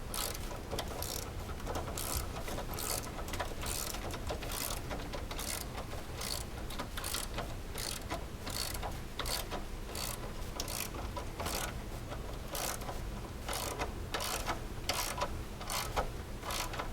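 A ratchet tightening the rear belly skid mounts on a 2020 Polaris General, sounding as a steady run of close, rapid mechanical clicks that repeat in regular bursts with no talking.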